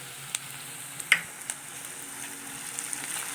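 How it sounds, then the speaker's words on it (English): Onions and curry leaves frying in a pan for prawn gravy, a steady soft sizzle with a few sharp pops and crackles near the start, close and moderately quiet. "Now while frying this up, we will add the curry leaves which I have taken here."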